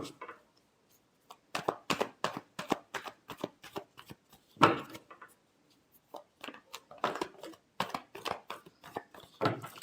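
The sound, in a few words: shuffling tarot cards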